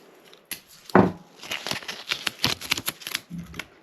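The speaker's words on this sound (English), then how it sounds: "So more masking tape." Masking tape crackles and tears in short bursts as it is pulled off the roll and pressed onto a paper mache owl armature, a close series of sharp crinkly strips with no talking.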